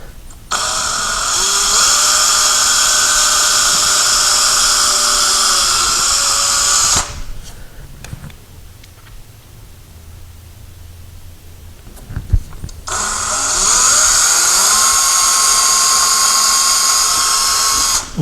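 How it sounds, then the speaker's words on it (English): A power drill with a tiny 1/8 or 1/16 inch bit bores into a bypass sliding closet door in two loud, close, high whining bursts of about six seconds each, separated by a quiet pause with faint handling noises. "We're going to drill a very, very tiny hole."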